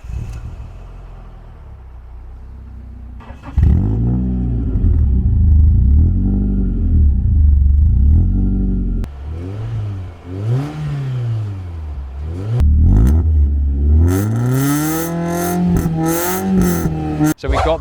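A car exhaust fitted with a newly installed middle silencer revs repeatedly, with deep rumbling rises and falls in pitch, loud and close, after a quieter idle at the start.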